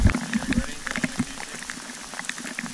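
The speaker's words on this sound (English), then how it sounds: "It was bucketing down." Heavy rain pouring down during a bikepacking ride in the Barrington Tops, New South Wales, a dense bubbling, splashing patter with louder drop hits early on that gradually eases, with faint talk in the background.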